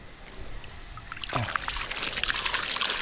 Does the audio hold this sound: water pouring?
yes